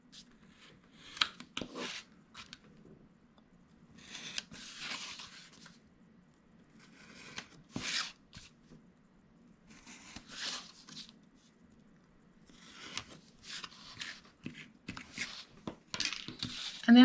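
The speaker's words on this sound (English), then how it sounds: "We're just going to make a little angle cut in and an angle there, and remove these corner pieces from all 4 sides." Scissors snip angled corner pieces off scored paper while making a planner and notepad craft, with short bursts of close cutting and rustling separated by quiet pauses.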